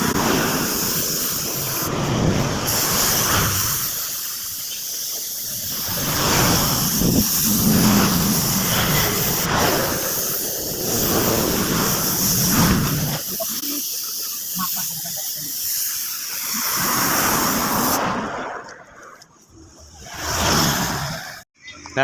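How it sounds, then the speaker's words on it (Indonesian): Spray painting a Honda Vario motorcycle with black doff paint in light thin coats, a hissing spray in several bursts with pauses between, close by, with someone talking at times. "Nah kita semproti tipis-tipis saja seperti ini."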